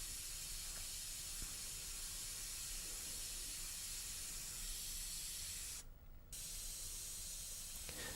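Airbrush at 40 PSI spraying white paint tinted with a little yellow and black while forming teeth in a custom paint job: a steady, soft, close hiss that cuts out briefly and then resumes.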